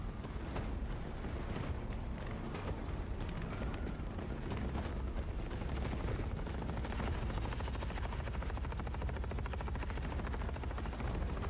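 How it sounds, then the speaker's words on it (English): A combat helicopter in the war game The Forever Winter roars overhead amid a dense, constant din of gunfire and explosions, loud and unbroken throughout. "Chopper gets shot."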